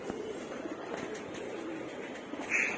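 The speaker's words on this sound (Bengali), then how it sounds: "দেখেন কি অবস্থা, কবুতর চড়া মস্তিতে আছে।" Pigeons in a rooftop loft coo softly at a distance over a quiet, steady background, ending with a brief brighter call.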